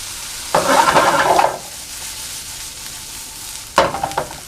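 Peas sizzle in a hot pan as they are stirred and salted, in two short bursts: a longer scrape-and-sizzle passage followed by a brief one after a quiet pause.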